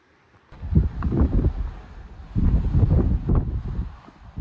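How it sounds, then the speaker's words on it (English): Strong wind buffets the microphone high on a mountain above the Palm Springs desert, coming in two loud, rumbling gusts with a brief lull between them. "the wind up here has other plans, strong enough that I'll probably have to turn the audio down on this one"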